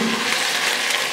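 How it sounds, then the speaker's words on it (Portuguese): Chicken sizzles in a pan with a little added water, a dense steady hiss of frying that fills the short moment without voices. "Deixa fritar desse lado."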